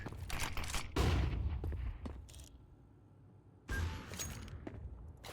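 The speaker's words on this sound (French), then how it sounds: "Flashbang." A flashbang grenade goes off in a tactical shooter game amid a rapid fusillade of gunfire, with a loud burst of crackling bangs, a brief lull, then another sharp burst near the end.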